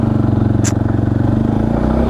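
A motorcycle engine drones steadily at close range with a pulsing, rhythmic putter and a brief scrape partway through.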